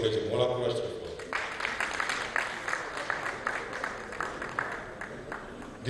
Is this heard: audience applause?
yes